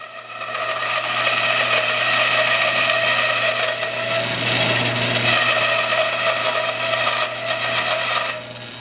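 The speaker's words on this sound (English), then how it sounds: "To speed up the process of shaping the nut, I cut away the excess with my bandsaw." A bandsaw trims excess material from a guitar nut, a steady loud whirring drone with a continuous cutting rasp that holds for about eight seconds before cutting off, no voices.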